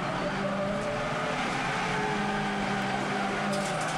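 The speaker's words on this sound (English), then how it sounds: "you can hear he's got the throttle nailed" A front-wheel-drive TCR touring car engine screams at full throttle at Phillip Island, high, steady revs, loud and continuous, its droning tone holding without a lift for the whole stretch.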